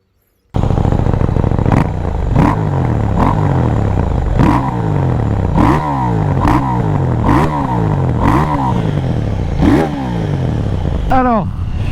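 A KTM 890R motorcycle accelerates hard through repeated gear changes. The engine rises in pitch again and again with brief drops at each shift, loud and close throughout, ending in a final sharp rev.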